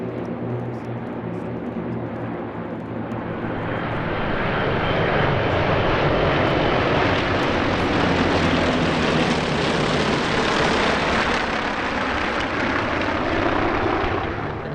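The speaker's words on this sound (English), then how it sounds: "We start, as usual, with the mass Warbird arrivals, here predominantly featuring T-34 Mentors and T-28 Trojans." T-34 Mentor and T-28 Trojan warbirds arrive en masse at EAA AirVenture Oshkosh 2023, a loud swelling propeller-engine roar that builds, holds and slowly drifts as the planes pass overhead.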